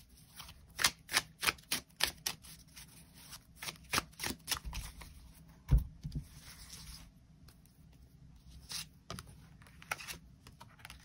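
Tarot cards are shuffled and drawn, giving a run of sharp riffling flicks and soft card slaps in close, quiet room, bursts of rapid clicking separated by brief pauses, with no voice.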